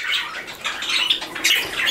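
Pet birds squawking in a bird room full of cages and flight cages, close, loud, overlapping shrill calls that burst out repeatedly with no talking.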